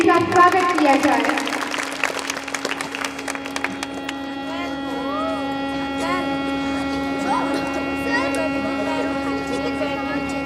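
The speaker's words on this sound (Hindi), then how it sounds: "जोरदार तालियों से इनका स्वागत किया जाए।" An audience at a school annual function claps in a dense burst that fades after a few seconds, then gives way to a loud, steady electrical hum with tonal sounds and a voice above it.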